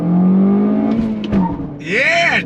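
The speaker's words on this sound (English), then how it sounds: "Yeah, chirping tires," A 2022 Toyota Corolla six-speed hatchback chirps its tires under hard acceleration, a short high squeal arriving late after steady engine drone, with a person's voice over it.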